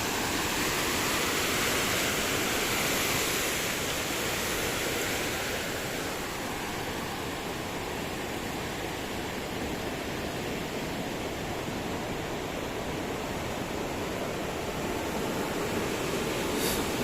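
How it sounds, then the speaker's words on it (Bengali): Heavy rain pours beside the swollen river at Jamuna bridge, a dense, steady roar of water that holds unbroken and loud throughout. "আর এদিক থেকে এভাবে বৃষ্টি আসছে"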